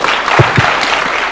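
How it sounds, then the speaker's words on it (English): An audience applauds the President, Kenya's William Ruto, at a formal police event: dense, steady clapping from a large crowd, loud and continuous, with a couple of low thumps partway through. "A round of applause for His Excellency one more time"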